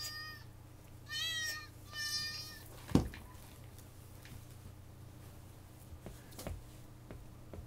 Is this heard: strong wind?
no